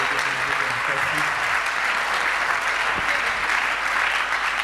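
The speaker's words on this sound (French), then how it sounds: "Est-ce que nous pouvons acclamer très fort?" A congregation at a Sunday church service applauds and cheers loudly and steadily, a dense wash of clapping that holds without a break.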